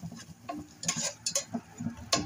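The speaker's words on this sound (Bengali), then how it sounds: "আমি এটাকে নেড়ে চেড়ে মিশিয়ে নিচ্ছি।" Spices with turmeric powder and salt being stirred and mixed in a pan, giving a series of soft scraping ticks and light clinks at an uneven pace, close and fairly quiet.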